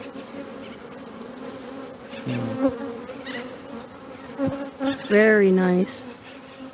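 Honey bees in an open hive during an inspection, buzzing close and loud with individual bees droning past in rising and falling swells over a constant hum; a person briefly speaks.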